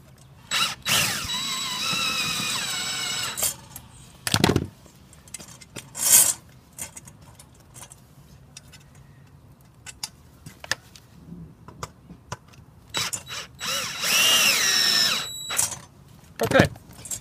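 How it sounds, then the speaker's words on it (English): A power drill drives screws into one side of a homemade CV axle removal tool, sounding in several loud bursts of a few seconds each, with quieter handling noise in the gaps. "I'm going to put the screws in this side first,"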